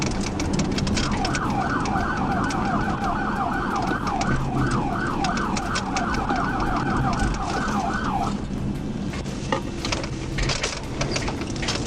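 Police car siren wailing in a fast repeating yelp for most of the time, loud over road and engine rumble during a high-speed pursuit of a fleeing Chevrolet Cruze sedan, then cutting out near the end.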